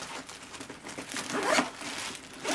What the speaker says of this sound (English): top zipper